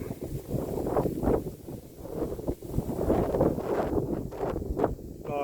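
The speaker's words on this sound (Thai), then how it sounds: "ท่ามกลางความหนาว หนาวมากครับ ลมแรง ลมแรง ลมแรง" Strong, cold gusts buffet the microphone at the Pha Hua Sing mountain viewpoint on Phu Thap Boek, a loud rushing roar that surges and dips in uneven waves with no one speaking.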